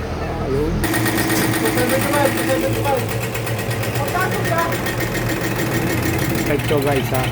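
A six-cylinder Fuso 6D15 diesel engine idles steadily after injection pump calibration, with a loud, even mechanical clatter and a low throb that runs continuously up close, while someone talks briefly over it.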